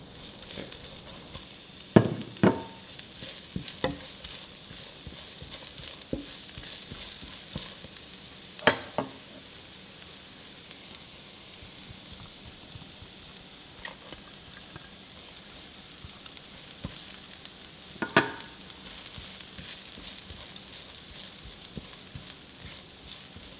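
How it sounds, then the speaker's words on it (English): Chopped garlic, leeks and red pepper sauté in extra virgin olive oil in a pan, a steady low sizzle broken by a few sharp clatters of stirring utensils. "We're now going to add in our 3 cloves of chopped garlic, our leeks, and our red pepper."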